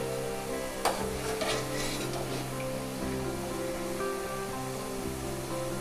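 Pottukadalai murukku fries in hot oil with a continuous close bubbling sizzle throughout, broken by a few light clicks of handling near the pan.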